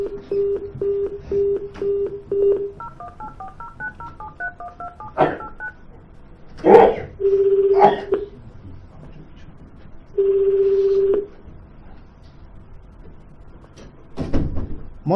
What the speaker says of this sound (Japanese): はい、じゃあ次の方電話かけます。